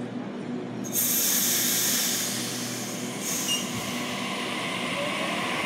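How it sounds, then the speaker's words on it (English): An A77 City Circle train departs platform 3 at Sydenham, heard as a loud sustained hiss and rumble of rolling stock with faint squeal rising briefly midway and continuing steadily. "A77 departing platform number 3, City Circle via Museum service."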